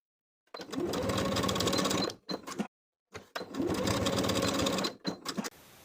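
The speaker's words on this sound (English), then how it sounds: "Sew at a 1/4 inch and press the seams open." A sewing machine stitches a quarter-inch seam in two steady runs, each about two seconds of fast, even mechanical whirring, with short stop-start bursts and pauses between, close and fairly quiet.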